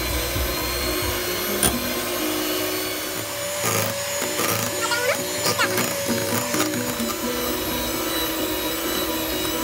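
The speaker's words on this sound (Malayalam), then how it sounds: "ഇനി ഇത് നല്ലോണം നമുക്കൊന്ന് ബീറ്റ് ചെയ്തെടുക്കാം" An electric mixer whirs loudly, beating butter, sugar and egg yolks for a coconut pudding cake, its steady buzz mixed with scraping and rattling against the bowl.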